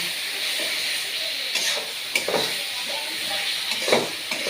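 Spices frying in a pan before meat is added, a steady loud sizzle and hiss with a few sharp stirring scrapes and clinks.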